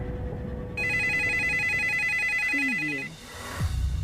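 A phone rings at night with an electronic warbling ringtone, loud and close, for about two seconds before cutting off, over a low background rumble with no talk.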